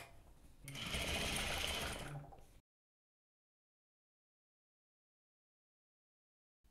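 A sewing machine whirs briefly and loudly while stitching a corset cup, one short close-up run of about two seconds that then cuts to silence.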